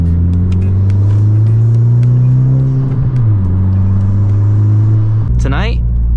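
A car engine drones loudly and steadily close by at Sacramento Raceway drag racing, its pitch dipping midway, then a sudden rising rev burst near the end.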